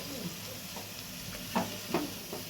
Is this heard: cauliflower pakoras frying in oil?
yes